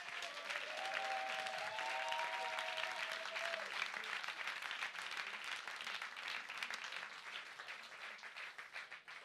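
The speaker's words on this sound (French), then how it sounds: "tonnerre d'applaudissements." Sustained audience applause filling a rally hall in Paris during an environmentalist campaign meeting for the 2024 European elections, dense and steady throughout, with a speaker's voice briefly carrying over the clapping at the start.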